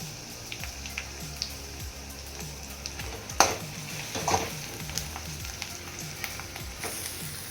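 Pendhra leaves, a wild vegetable, are tipped into a frying pan and stirred, giving a steady close sizzle with scattered scrapes and clatters and a sharper clunk midway.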